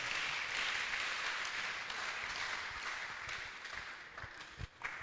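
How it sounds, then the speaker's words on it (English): A youth retreat crowd gives a sustained round of applause for the business people. The clapping is dense and even, continuous across the room, and tapers slightly toward the end. "round of applause."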